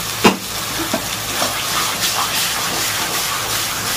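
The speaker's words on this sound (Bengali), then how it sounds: "এবার শাকটা দিয়ে দেবো, দিয়ে এবারে ভালো করে এটাকে কষাতে থাকবে যতক্ষণ না জল শুকিয়ে যাচ্ছে, তেল বেরিয়ে আসছে" Leafy greens sizzle in hot oil in a pan, a steady frying hiss with occasional clunks and scrapes as they are stirred and tossed, close and fairly loud.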